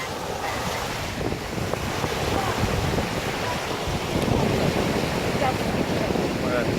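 Beach surf and waves washing steadily with gusty wind noise buffeting the microphone, a continuous broadband roar filling the whole clip without pause.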